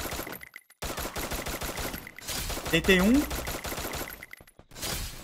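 Rapid bursts of automatic gunfire in the battle royale game Free Fire crackle in clusters with short pauses, while players talk over the shooting.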